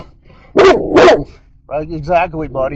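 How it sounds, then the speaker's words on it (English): Two loud, close dog barks in quick succession, followed by someone speaking. "Who are you barking at anyways? You barking at them?"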